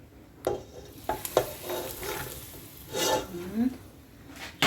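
Cumin and chili flakes toast in a pan, with a steady low sizzle broken by several close scraping stirs, and a brief voice near the end.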